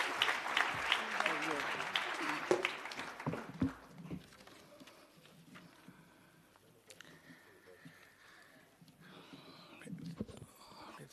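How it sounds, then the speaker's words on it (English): Audience at a health workforce investment forum applauds as a speaker comes to the podium, a dense burst of clapping over the first few seconds that thins and fades into quieter room noise with scattered murmurs. "I'd like to ask you please to warmly applaud as he comes to make his address"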